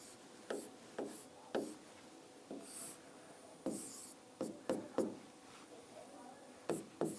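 Chalk or pen strokes on a board during a physics lecture on circuits, short scratchy marks arriving in irregular bursts, fairly close but soft in a quiet room.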